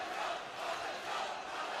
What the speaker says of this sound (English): Already the chant of Concepcion.